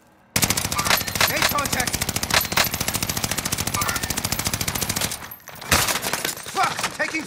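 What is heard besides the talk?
gunfire in Call of Duty Modern Warfare video game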